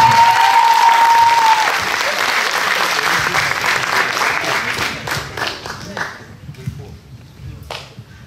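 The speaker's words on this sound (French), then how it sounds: "Tonnerre d'applaudissements." Thunderous audience applause at an eloquence contest, a loud dense roar of clapping that gradually thins into scattered claps and fades out toward the end.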